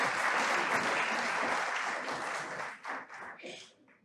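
Sustained applause from a seated audience at a panel event on youth and work, dense and loud at first, then thinning into scattered claps before fading out.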